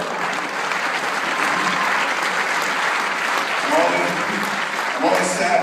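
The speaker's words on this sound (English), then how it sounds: "I'm always sad when people clap" Sustained applause from an audience at a film screening Q&A with Kevin Smith after Red State, a steady dense wash of clapping that carries on loud and even throughout, with crowd murmur mixed in.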